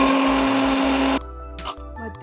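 An electric mixer grinder churns cream with cold water in a loud, steady whir, then cuts out partway, leaving a lower mechanical hum and light clatter.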